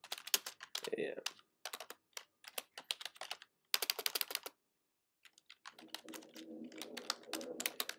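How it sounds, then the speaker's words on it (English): Computer keyboard typing as an email is written: bursts of quick, close plastic key clicks with brief pauses and a gap mid-way, then steadier continuous typing toward the end. "Okay, so you type your email, whatever you want it to say."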